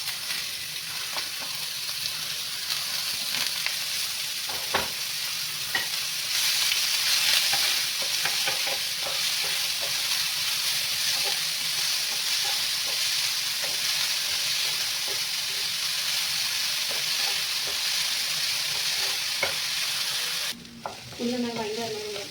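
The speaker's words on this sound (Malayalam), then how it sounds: "എണ്ണ ചൂടായിട്ടുണ്ട്. നമുക്ക് ഉള്ളി ഇട്ട് കൊടുക്കാം." Onions sauté in hot oil with a constant close sizzle and frying hiss, broken by scattered clicks and scrapes of stirring, running long with no talk.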